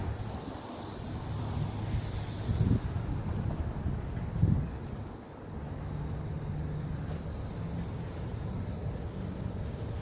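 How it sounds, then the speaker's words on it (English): Steady wind buffets the microphone outdoors while a hybrid drone flies, a continuous low rumble with a couple of stronger gusts. "the wind trying to toss me around out here"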